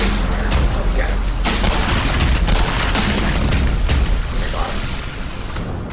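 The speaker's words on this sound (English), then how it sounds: "double grenade them. Chuck some grenades in there, I'll get him" Heavy booming grenade blasts in the first-person shooter Black Mesa, several detonations running together into a dense, continuous roar of gunfire and debris, with someone talking over the action.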